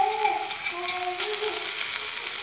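Garlic fries in a pan of oil with a steady, fairly loud sizzling hiss, interrupted now and then by faint tonal clinks close by, and no voices.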